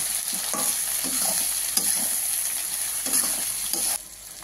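Mixed vegetables are stirred into a sizzling pan for a Bengali panchmishali chorchori with fish head, steady frying hiss punctuated by repeated scraping stir strokes, then suddenly quieter at the end.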